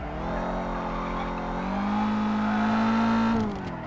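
A Dodge Challenger drives in Forza Horizon, its engine a loud, steady drone that rises in pitch as it revs up, then drops off abruptly near the end.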